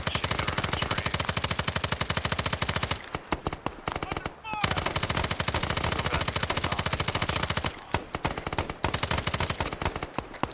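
Sustained machine gun bursts from an RPD in a Vietnam-era shooter game, loud rapid-fire rattling in long strings with brief pauses between bursts, a voice talking faintly underneath.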